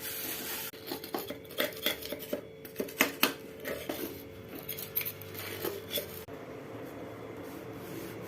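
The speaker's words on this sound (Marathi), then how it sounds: "आता आपण थोडंसं काथ्या आणखीन साबण लावून थोडं सर्फ टाकून आपण घासून घेऊया" A gas stove is scrubbed with coir, soap and detergent powder, after an earlier scrub with lemon and salt. The rubbing makes a quiet series of rasping, scraping strokes in an uneven rhythm, close by, with no talk.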